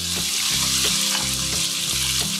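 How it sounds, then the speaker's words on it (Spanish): Chicken seasoned with salt and pepper browning in hot oil, a loud, dense, continuous sizzle up close with a soft rhythmic stirring pulse underneath. "mientras va dorando el pollo"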